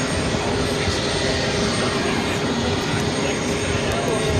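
A Boeing 737 MAX 8 jet, flight 552 in from Kingston, arrives at a nearby gate at JFK with a loud, close, unbroken engine roar and whine, and voices can be heard underneath.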